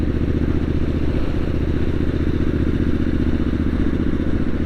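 Triumph Street Scrambler 900 motorcycle engine running steadily and close, a continuous low rumble with faint clatter and no obvious revving.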